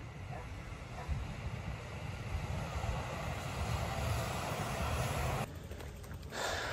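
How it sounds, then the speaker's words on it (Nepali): A Japanese bullet train rushes past at high speed with a broad, roaring whoosh that swells and holds, then shifts in tone near the end as it goes by; faint voices may sit underneath. "बुलेट स्पिडमा यो ट्रेन।"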